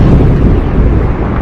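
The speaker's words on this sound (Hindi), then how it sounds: "आसमान में और भी तेज गर्जन सुनाई देने लगी" Loud, deep thunder rolls across a stormy sky in one continuous heavy rumble, with no voices over it.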